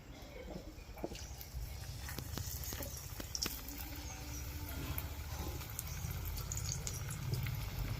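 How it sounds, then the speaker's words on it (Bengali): Potatoes frying in oil for a winter vegetable khichuri, giving a steady, low crackling sizzle with scattered small pops throughout, fairly quiet and continuous. "প্রথমে আলুটা ভেজে নিই"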